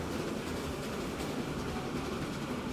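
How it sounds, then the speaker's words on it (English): A train rolls along in the Transport Fever 2 simulation game, a steady broadband rumble and rattle with faint clicking, quiet and continuous with no voices. "This is another train we can eventually rebuild."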